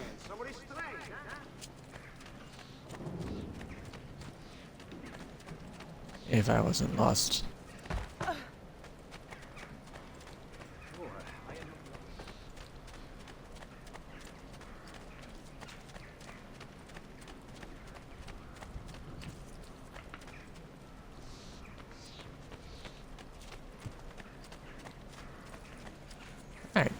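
Horse hooves clip-clop in Assassin's Creed II as the character rides, a steady rhythmic trot running under ongoing talk from a man, with a few louder thumps and sounds from the game partway through.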